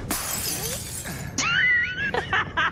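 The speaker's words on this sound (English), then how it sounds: "He threw a glass at me." A glass is thrown and shatters in a video game: a sharp crash near the start, followed by scattered clinks and a few thin, whistling tones.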